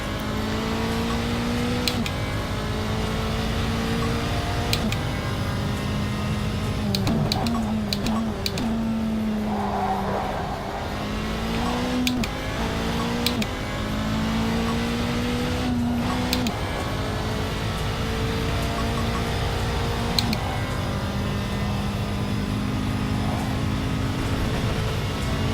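A Toyota TS020 GT1 race car engine in the Simraceway racing game at Watkins Glen, a steady droning whine that rises and falls through gear changes and corners, loud and constant throughout.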